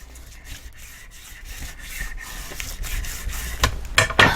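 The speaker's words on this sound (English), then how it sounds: "Get some burnishing going here." Paper being burnished while assembling a tri-fold photo frame: a close, dry rubbing and scraping that grows gradually louder, with sharper scuffs toward the end and no talk.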